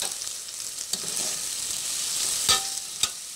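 Chilli powder and coriander powder stirred into red kidney bean rajma curry in a pan: continuous close sizzle with a few distinct scrapes and taps of the spoon, no talking.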